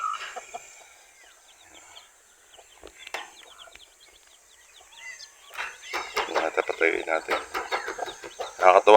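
Many chicks and chickens cluck and chatter softly at first, then a denser burst of clucking from several birds grows louder toward the end.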